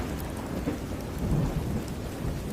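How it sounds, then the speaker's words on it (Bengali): Heavy rain pours at midnight in a village storm, a dense close downpour with deep thunder rumbling and swelling beneath it, no voices. "তারপরেই বৃষ্টির তীব্র শব্দ ঝপঝপ করে"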